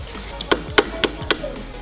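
Four sharp metallic taps of a center punch struck into a Honda Dio scooter handlebar end, evenly spaced and close, each a bright clink with short ring, no talking.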